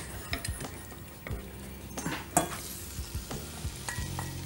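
Pasta tossed and stirred in a hot pan with a little butter and a spoonful of olive oil, soft sizzling under repeated scraping and clinking of a utensil against the pan, close and uneven.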